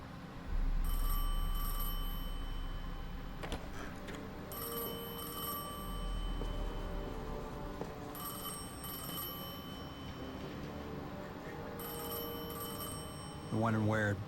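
A telephone rings in a Destiny 2 cutscene, repeated bell-like bursts recurring every few seconds over a low rumbling score, with voices speaking through it.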